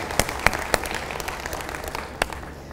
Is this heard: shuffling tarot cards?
no